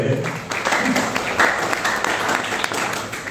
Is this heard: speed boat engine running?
no